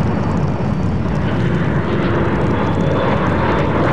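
A steady, loud roar of a firefighting aircraft engine flying overhead, a broad continuous drone with no talking.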